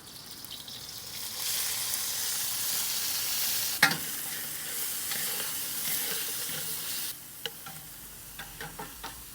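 Onions, peas and carrots stir-fried in oil in a wok on a Big Green Egg give a steady, close sizzle and hiss. A sharp clatter of a utensil on the wok comes near the middle, and a few more light scrapes come toward the end.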